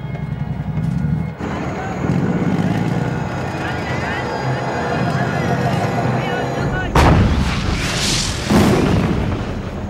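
Heavy .50 caliber machine gun fire rattles in continuous loud bursts, with booming blasts near the end, set in a battlefield scene with voices under the din.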